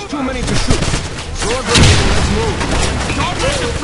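Loud booming blasts and gunfire-like bursts from the video game Wolfenstein, with a heavy grenade explosion near the middle over a busy, dense soundscape.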